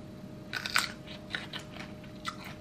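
Sour Japanese green plums are bitten and chewed up close, giving a handful of crisp, wet crunches clustered in quick succession against a quiet background.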